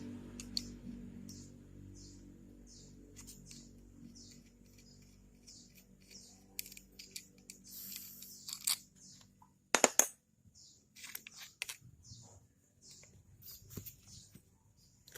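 Close-up clicks, scrapes and small plastic snaps come from opening the plastic rotor of a Daiwa RX 2500BI spinning fishing reel, sparse and irregular, with a sharper clatter partway through and no talking.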